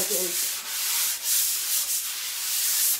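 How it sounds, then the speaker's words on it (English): Soft, hissy strokes of an ultra fine sanding pad rubbing back and forth over gel-stained wood, steady and close, with no voices. "I also got these really really ultra fine sanding pads"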